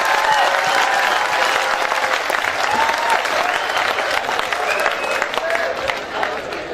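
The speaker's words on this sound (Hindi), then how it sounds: "जोरदार तालियां बजाइए, जोरदार जोरदार" A kavi sammelan audience at the Jalore Mahotsav bursts into loud, dense applause that holds steady throughout, with crowd noise and a few voices mixed in.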